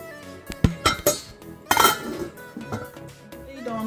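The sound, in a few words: lid put on a Saladmaster cooking pot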